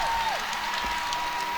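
Home crowd at a college gymnastics meet between Alabama and Florida, applauding a routine: dense, loud, continuous clapping and cheering, with a faint whistle-like tone running through.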